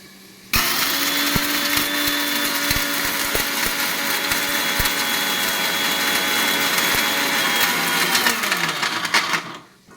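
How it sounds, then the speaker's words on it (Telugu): A mixer grinder whirs loudly and steadily as it grinds cumin and salt, along with lentils and coconut. The whine holds steady for about eight seconds with faint rattles, then the motor winds down and stops. "జీలకర్ర, తగినంత సాల్ట్, ఉప్పు వేసుకొని గ్రైండ్ చేసుకోవాలి"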